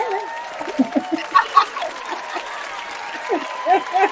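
A small audience applauds after a book reading, with scattered, light clapping and a few chuckles, fairly close and subdued rather than a full roar.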